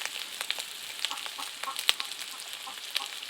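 Masala spice paste fries in hot oil in a pan for an egg curry, with a soft continuous sizzle and scattered pops and crackles. There is no talking.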